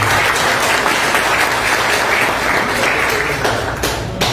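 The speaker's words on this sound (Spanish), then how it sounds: "Fuertes los aplausos nuevamente para don Víctor López Orihuela." Sustained audience applause at a Spanish-language Amazonian poetry event, dense clapping from many hands filling the room at a steady level for the whole stretch, fading slightly toward the end.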